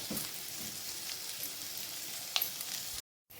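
Chopped vegetables fry Chinese style in a pan for an egg dish, giving a steady, bright sizzle with a brief clink of stirring before sudden silence at the very end; no talking.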